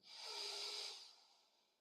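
A deep breath during a guided meditation: a single long, soft airy inhale or exhale, close and quiet, swelling and then fading out.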